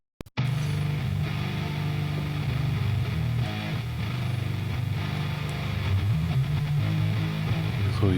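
Heavily distorted drop G metal guitar, mixed in a sludgy drone doom style, sustains a thick, droning low-end wall of sound after a brief start, loud and continuous with no talking.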